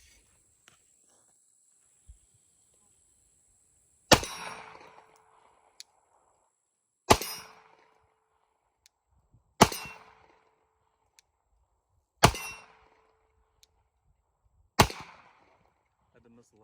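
Five single Glock 19X pistol shots fired at steel targets outdoors, each a sharp loud crack with a short fading tail, spaced a few seconds apart in the quiet.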